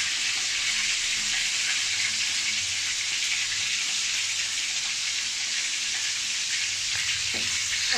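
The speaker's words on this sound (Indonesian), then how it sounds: "Kita salut ayam dengan tepung dulu baru goreng." Steady, loud sizzling and crackling of flour-coated chicken frying in hot oil, continuous throughout with no talking.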